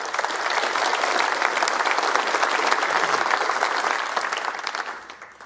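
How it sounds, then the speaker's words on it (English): Sustained arena audience applause at a snooker trophy presentation for the British Open final, a dense steady wash of many hands clapping at full volume for about five seconds before tapering off at the end, with no voices over it. "A round of applause, please, for CEO of World Snooker Tour"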